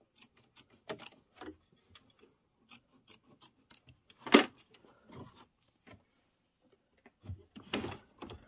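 Scissors trim vinyl quilt windows in a series of close, crisp snips, scattered singly and in small clusters, with a louder cut midway and another flurry near the end.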